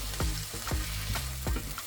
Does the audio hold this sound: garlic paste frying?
yes